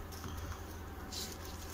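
Honeybees being fed syrup by a beekeeper, a soft steady buzzing hum close by with faint rustling, no voices.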